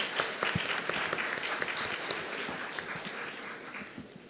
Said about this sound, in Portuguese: Eu desejo uma salva de palmas de imediato para a professora.